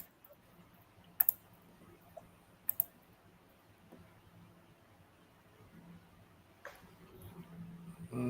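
Sparse, faint keyboard clicks as a link is typed, a few sharp isolated taps spaced over several seconds against a quiet background.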